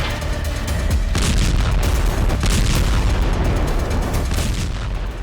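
Airstrike explosions across southern Lebanon make a dense, continuous barrage of heavy booms and rumbling blasts that stays loud and unbroken throughout.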